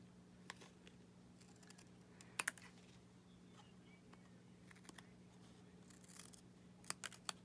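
Scissors trimming excess paper from an altered playing card, a few faint quiet snips and crisp clicks scattered over several seconds against a low background hum.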